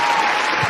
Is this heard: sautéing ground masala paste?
no